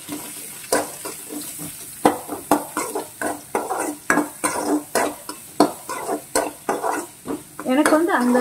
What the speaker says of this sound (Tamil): பூண்டு நல்லா உள்ள போட்டுட்டு லேசாக கிளறி விட்டுறேன்.